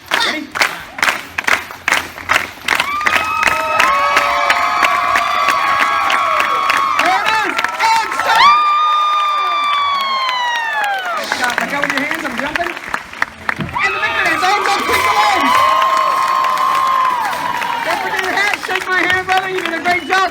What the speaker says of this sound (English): Let's get a clap going.